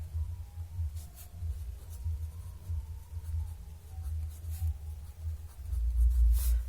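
A math equation written out by hand for a class 10 problem, a faint continuous scratching of pen on paper with small pauses, close, over a low background hum and with no talking.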